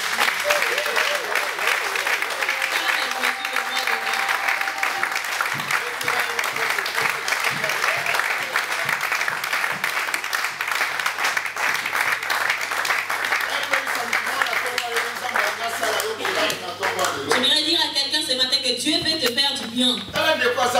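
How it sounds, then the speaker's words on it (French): A church congregation at an evangelical service applauds in sustained, loud clapping that runs steadily throughout, with a voice speaking and the crowd calling out over the clapping. "Acclamons Jésus."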